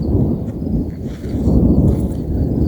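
Deep thunder rumbles continuously near a river, a heavy, loud low-frequency roll that swells and fades over a few seconds with no talk.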